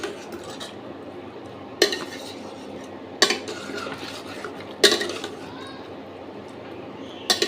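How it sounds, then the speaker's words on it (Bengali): Soybean masala being stirred and fried in a pan, with a soft steady sizzle broken by four sharp scrapes of a utensil against the metal, close and clear with no talk. "আরও 2-3 মিনিট এরকম কষিয়ে নেব।"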